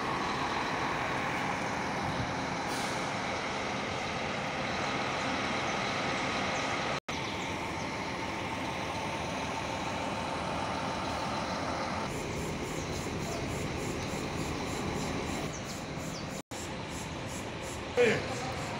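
New Comil Invictus double-decker buses of Viação Rio Doce arrive from São Paulo, bound for Fabriciano. A steady, heavy engine and road rumble runs throughout, close and continuous, with a brief louder burst near the end.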